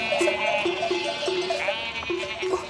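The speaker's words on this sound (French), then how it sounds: "Allez, moutons, en route pour la ferme." Sheep bleat repeatedly in a flock, short wavering calls overlapping one another at close range against a steady background, with no talk.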